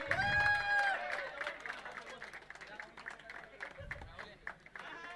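A village audience claps for a young local player at a Sarpanch Cup 2025 sports event in Sukapur, Panvel, steady crowd applause mixed with a crowd murmur while an announcer talks over it.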